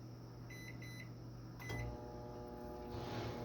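Keypad beeps sound, then a microwave oven holding about a gallon of water starts up with a steady low hum and whirr that keeps running.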